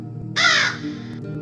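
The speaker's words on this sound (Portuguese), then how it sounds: "dentro dela tem o efeito do corvo" A single loud, harsh crow caw rings out in a Roblox horror game from inside a wooden cabin, standing alone over a low, quiet ambient hum.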